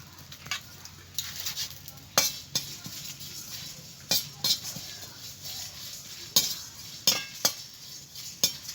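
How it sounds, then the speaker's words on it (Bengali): Dried red chillies, coriander seeds, fennel and cumin dry-roasted together in a pan, with sharp intermittent clinks and scrapes of a spoon against metal over a faint crackle, spaced irregularly and close by. "শুকনো লঙ্কা, নিয়েছি 1 চামচ ধনে, মৌরি, জিরে একসঙ্গে ভেজে নেব"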